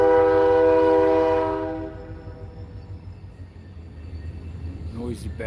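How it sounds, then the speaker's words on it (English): A passing train in Taylor County, Florida sounds a loud, sustained horn blast that fades after about two seconds into a low rolling rumble, with faint voices near the end. "There goes the choo-choo train."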